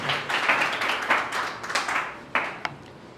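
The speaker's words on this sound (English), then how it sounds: "Okay, guys, put your hands together, please. Thank you. Clap for him." A group claps for a debate speaker during an English group discussion, a loose patter of hands that thins out into a few scattered late claps near the end.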